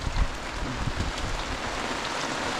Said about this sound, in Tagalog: Nag-uulan na naman, oh.